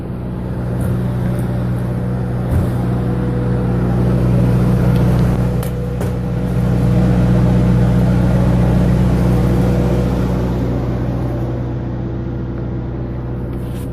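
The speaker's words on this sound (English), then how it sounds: "to make sure our generators, our giant engines, were still running" Loud, constant droning hum of large generator engines running nearby at the Mars Desert Research Station, with a deep rumble and steady tonal whine that swells slightly then settles.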